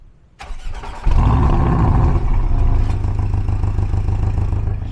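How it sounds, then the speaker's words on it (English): A Porsche 718 Cayman's engine cranks and fires after a short silence, then settles into a loud, steady, deep idle close to the microphone. "So let's go ahead and start the ignition."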